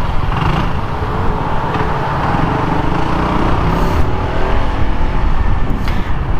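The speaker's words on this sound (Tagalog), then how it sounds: "Traffic mga boss." Continuous engine drone and road noise from a motorbike ride through heavy traffic in Taiwan, steady and loud throughout with a few brief revving swells and no talk.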